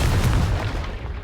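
A Confringo fire spell bursting into an explosion in Hogwarts Legacy, a deep rumbling boom with heavy low-end weight that rolls on and slowly fades over about a second, with no voices.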